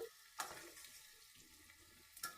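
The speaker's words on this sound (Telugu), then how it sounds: "కలర్ చేంజ్ అయ్యేంత వరకు వేపుకోవాలి" Dried red chillies fry in a pan for homemade chilli powder, a soft steady sizzle with two brief sharp stirring scrapes near the start and end.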